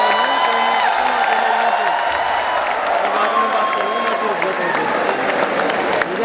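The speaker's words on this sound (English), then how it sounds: "Can we have a round of louder applause" An audience gives a loud round of applause for author Chetan Bhagat at a felicitation ceremony, sustained clapping mixed with scattered cheers and whoops, with voices and tonal sounds running underneath.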